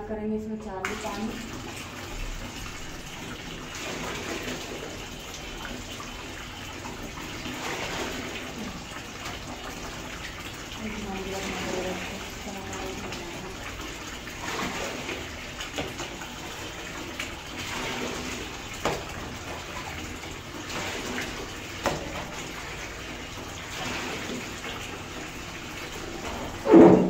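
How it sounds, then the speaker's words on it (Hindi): Water gushes and splashes steadily as it is poured into a household air cooler, a continuous watery rush with soft voices talking quietly in the background. "पहले पानी भर देते हैं अपने कूलर में"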